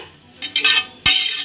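A utensil scrapes and clinks against a pan while vegetable fried rice is stirred, a few sharp close metallic strokes with short pauses between.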